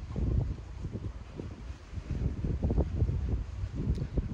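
Gusty outdoor wind buffets the microphone while seeds are planted in a garden, a steady low rumbling roar that swells and dips in gusts throughout, with no talking.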